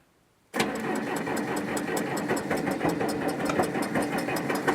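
After a moment of quiet, an old diesel tractor engine cranks and catches, settling into a loud, rough, rhythmic clattering idle close by.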